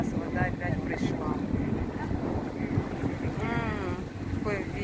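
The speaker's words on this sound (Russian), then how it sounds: "Какой ветер." Strong wind buffets the microphone aboard a boat on the ocean off Watamu, Kenya, with water rushing and people talking over the steady gusting noise.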